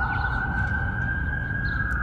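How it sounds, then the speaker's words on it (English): Emergency vehicle sirens in Washington, DC hold a steady, sustained wail from start to finish over a constant city rumble, with no voices. "the sirens blaring is quintessential DC."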